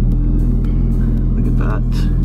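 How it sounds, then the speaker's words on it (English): A Ford Focus RS idles on a cold start at just above 1000 RPM, a steady low engine drone close by, with someone talking over it. "So this is cold start. You can see it's currently a little bit above 1000 RPM."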